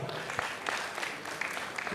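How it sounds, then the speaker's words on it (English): A comedy-show audience in a Lagos hall applauds for a comedian, a continuous, moderately distant wash of clapping with a few sharper claps standing out. "please a round of applause for him"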